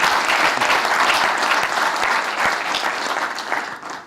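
An audience at a panel event gives a full round of applause to greet the panelists. The clapping is dense and sustained, then tapers slightly at the close.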